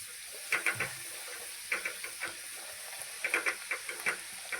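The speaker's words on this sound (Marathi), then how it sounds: "आता आपलं तेल छान तापलेलं आहे त्यामध्ये खोबऱ्याचं वाटण टाकून घेणार आहे" Coconut paste frying in hot oil in a kadai, a soft hissing sizzle with intermittent clusters of spoon scrapes and spatters, close but fairly quiet and without talk.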